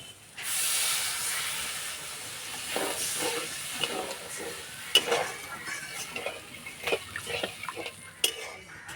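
Water poured into a hot pan of frying mung dal with pointed gourd bursts into a loud, steady hiss of steam and sizzle. Stirring clatter and small bubbling pops follow close by.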